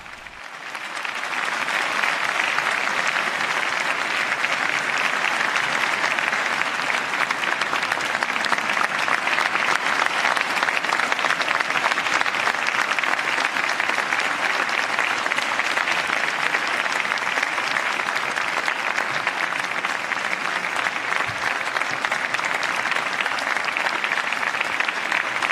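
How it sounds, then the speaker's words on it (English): Loud, sustained applause from a large crowd following Pope Leo XIV's address during his apostolic journey to Spain, a dense steady roar of clapping lasting the whole stretch with no speech over it. "And we hear the sustained applause for Pope Leo's address to"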